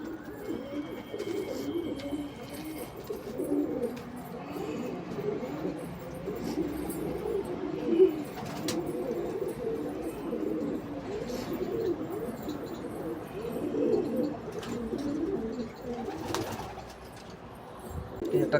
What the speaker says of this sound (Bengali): একটা কালো মাদা পায়রা আপনাদের শখ করাচ্ছি, এটা আমার ঘরের ব্রিডার পায়রা।